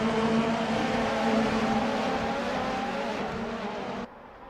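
Racing cars roar past continuously in a simulated Formula race at the Sugo circuit, a loud sustained engine drone with rising harmonics that drops away sharply near the end.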